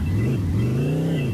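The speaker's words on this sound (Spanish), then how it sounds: "Voy a usar mi famosa carretilla. Arriba. Ah, Tiene sonido de moto." In the Chicken Gun video game, a wheelbarrow gives off a motorbike-style engine sound: a continuous, close, droning rev whose pitch rises and dips slightly, with no talk over it.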